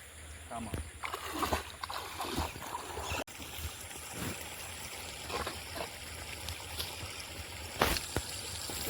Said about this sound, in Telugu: చూడండి చాలా వాటర్ వస్తుంది